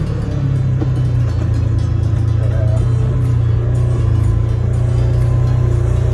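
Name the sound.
2025 Polaris RZR XP engine with Pedal Commander throttle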